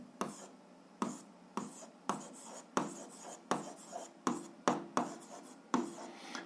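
A pen writes on paper while a graph is plotted, making about ten short, crisp scratching strokes in an irregular rhythm, each one close and clear against near silence.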